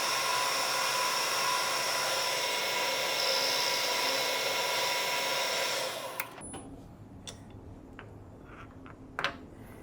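A machining cut on a flat in one pass: a loud, steady high-pitched whirring whine of the milling cutter that runs for several seconds, then stops abruptly and leaves quiet clicks and small knocks.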